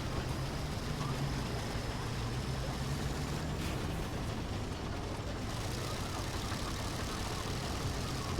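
A tank engine in the video game War Thunder drones at a steady low rumble for the whole stretch, held at an even level with no clear gear changes.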